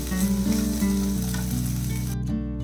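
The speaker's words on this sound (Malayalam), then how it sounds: "കുറച്ചുകൂടെ നമ്മുടെ സവാള ഒന്ന് വഴറ്റിക്കണം. ഇങ്ങനെ ഇളക്കിക്കൊണ്ടിരിക്കണം കേട്ടോ, കരിഞ്ഞു പോകരുത്." Onions sautéing in a pan on medium flame for mushroom masala give a loud, continuous close-up sizzle, with a steady low tonal hum underneath and a short dip just before the end.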